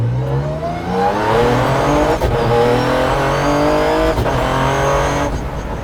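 A 600hp 1971 Datsun 240Z weighing 2400 lbs accelerates hard from first gear, its engine note climbing steeply through two quick upshifts, loud and close with no talk.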